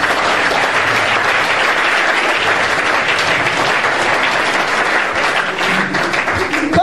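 A church congregation applauding to acclaim the Lord during a French-language worship service, with loud, sustained clapping from many hands filling the room throughout, and voices faintly mixed in.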